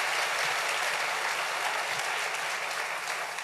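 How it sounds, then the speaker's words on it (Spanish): A church congregation breaks into strong, sustained applause for the king, a dense wash of many hands clapping that stays loud and even throughout, with no speech over it. "denle un aplauso fuerte al rey"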